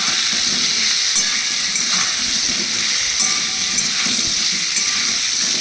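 Potatoes frying in oil with salt, turmeric, bay leaves, cinnamon and cardamom for an aloo potol dalna, a loud continuous close sizzle with faint stirring and no talk.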